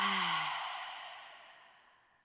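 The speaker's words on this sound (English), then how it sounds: "Take a big breath in and let it go." A slow, deep exhale during a gentle prenatal yoga session, a soft breathy rush that starts fairly loud and steadily fades away over about two seconds, heard alone and close.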